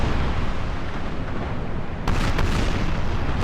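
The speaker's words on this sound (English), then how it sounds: "Port firing grape shot to try to take out members of the crew on the ironclad" Warship cannons in the Napoleon: Total War naval battle fire grape shot, heard as a loud, rumbling roar of broadside gunfire and then a sharper burst of blasts near the end.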